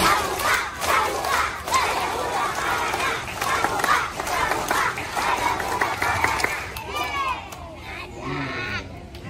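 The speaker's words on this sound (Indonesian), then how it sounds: "2 kali tepuk pramuka" A group of scouts performing the rhythmic Pramuka clapping chant at a school assembly, loud patterned claps and shouted calls from many voices, ending with scattered cheering.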